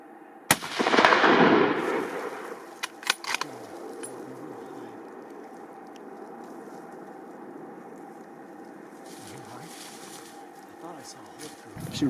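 A single loud rifle shot rings out across open mountain terrain during a goat hunt in British Columbia, followed by a long rolling echo, then a few faint clicks and quiet outdoor ambience.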